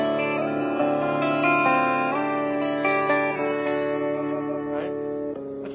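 A Line 6 JTV-69 Variax electric guitar in drop D tuning, through a Blackstar HT Club 40 amp, strums sustained, effects-laden chords with reverb and chorus, ringing full and close with shifting notes.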